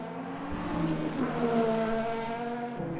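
A Ferrari race car in the Le Mans Ultimate racing game holds a steady engine tone with a slight rise in pitch, moderately loud and alone.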